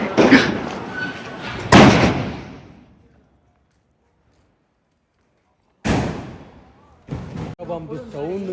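Firecrackers burst loudly outdoors, two sharp heavy bangs close together, then silence before another loud bang and a few smaller pops, with people's voices mixed in.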